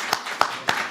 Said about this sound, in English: can we give a warm round of applause for Tina Coombs?